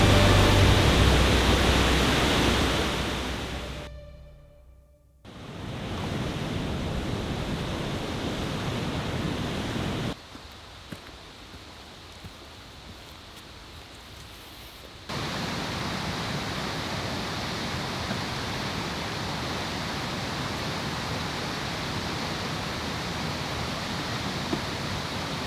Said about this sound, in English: I am now officially at the top of that waterfall on my way to the next one.